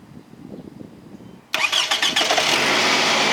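A high-mileage Toyota Camry with swapped ignition coils cranks briefly after a quiet lead-in, then catches and fires up loudly, settling into a strong, steady idle close by.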